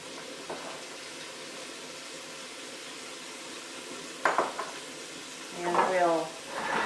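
Chopped bacon sizzling in a hot pan gives a soft, steady frying hiss, with two brief louder clatters of stirring near the end.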